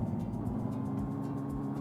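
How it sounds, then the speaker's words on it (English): Low, steady engine rumble of a car in the Guild Wars 2 game world, a continuous droning hum with faint rhythmic pulsing, heard alone. "Oh, there is car noise if you get close enough."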